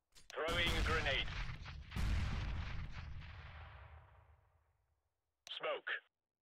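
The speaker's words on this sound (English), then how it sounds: "Throwing grenade." A grenade blast in a first-person shooter match, a loud boom followed by a second burst and a long rumbling tail that fades out, then a brief separate pop of gunfire near the end.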